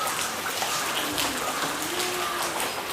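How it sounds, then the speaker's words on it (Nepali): Rain falls steadily in the Tarai lowlands, a continuous even hiss of drops spread across the whole stretch at moderate loudness, with no breaks or other distinct sounds standing out. "पानी पर्दैछ"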